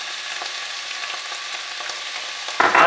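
Garlic sizzling and frying in hot olive oil in a pan for a cauliflower coconut curry, a steady even crackle throughout that swells suddenly louder near the end as more goes into the pan.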